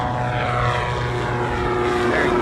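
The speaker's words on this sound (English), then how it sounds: "Dwayne is just starting his takeoff run in the Viking 135 SeaRey" Viking 130 engine on a SeaRey seaplane during its takeoff run, a steady loud propeller drone with a constant engine hum throughout, no voices.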